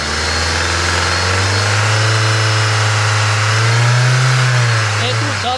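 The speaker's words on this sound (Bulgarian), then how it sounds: "дай газ на колата!" A car engine runs loud and close during a pre-purchase inspection, idling steadily before revving up and settling back down.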